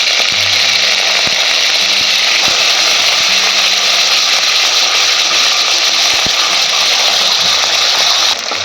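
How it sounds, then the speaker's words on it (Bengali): Fish fry in hot oil in a kadai on a gas stove, a loud, steady, close sizzle that holds evenly throughout with no talking. "তেল তেতে গেছে আমি মাছগুলো ভেজে নেবো"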